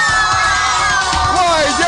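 Fans scream and cheer loudly in a TV studio in La Paz, Bolivia, a dense, continuous crowd of high-pitched voices filling the whole moment.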